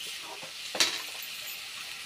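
Spinach for palak paneer is stirred in a hot pan, giving a steady soft sizzle with one brief clatter from the spoon against the pan near the middle, close and fairly quiet, with no voices.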